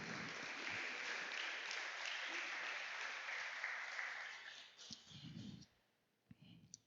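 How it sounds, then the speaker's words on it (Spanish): A church congregation at an evening service claps together in a sustained, fairly distant wash of applause that fades out, followed by a few scattered low thumps and a brief voice. "Alguien dele un aplauso al Señor."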